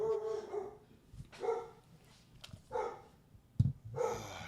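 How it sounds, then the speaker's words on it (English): A dog barks several times in short separate bursts, fairly close and moderately loud, with a person's voice briefly between the barks. "oh, for the love of fucking God, the damn dog"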